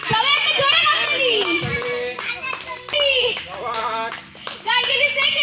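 At an outdoor picnic a group claps loudly, with irregular sharp hand slaps rising and falling in bursts while kids' voices and chatter overlap throughout.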